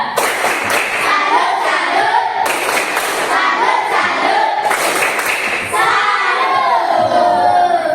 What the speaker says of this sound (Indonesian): beri tepuk salut untuk kita semua. Tepuk salut.